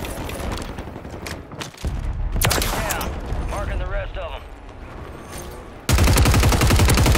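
Gunfire in Warzone 3 on Rebirth Island, bursts of shots and rapid automatic fire mixed with explosions, with a player talking over it and a loud sustained volley at the end.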